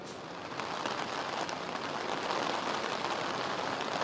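Heavy rain pours in Ahmedabad, a dense, unbroken roar of drops pattering on surfaces. It stays loud and even throughout, with no voices.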